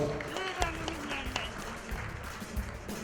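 An audience applauds at a celebrity awards ceremony, steady clapping from a crowd with a few sharper claps standing out and some talk over it.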